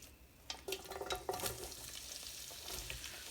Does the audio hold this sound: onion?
yes